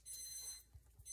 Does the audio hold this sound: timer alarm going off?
yes